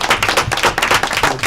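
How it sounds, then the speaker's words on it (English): Brief burst of applause at a village board meeting for the Department of Public Works, a handful of people clapping close by in quick uneven strokes. "Please give them a round of applause"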